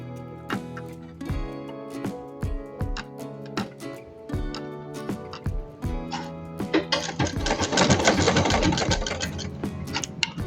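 An old, recently oiled sewing machine stitches fabric for a pair of shorts. Scattered single clicks and ticks lead into a dense, fast, continuous stitching run near the end, heard up close.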